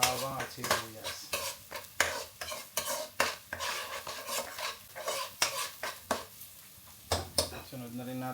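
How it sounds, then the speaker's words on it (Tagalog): Garlic and onion sautéing in a pan, busy rhythmic scraping and clinking of a spatula against the pan over a light sizzle, with frequent strokes throughout and voices faintly present. "Kailangan lang natin maluto yung bawang at sibuyas."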